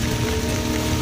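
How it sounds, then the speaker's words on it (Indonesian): Steady rain pours down on a campsite in Samboja, Kalimantan, a continuous close hiss of drops striking surfaces with no let-up. "Kami kehujanan Kutbi."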